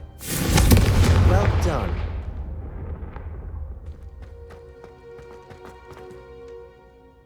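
A Confringo fire spell in Hogwarts Legacy lands as a loud, close explosive blast, then the burst decays into crackling embers and scattered small pops, with a voice speaking briefly partway through.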